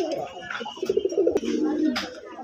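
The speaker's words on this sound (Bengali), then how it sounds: "এখানে এক জোড়া গোল্লা কবুতর আছে, আর এটা হচ্ছে কি মাক্সি গোল্লা" A pair of Maxi Golla pigeons giving soft rolling coos close by, mixed with someone talking over them.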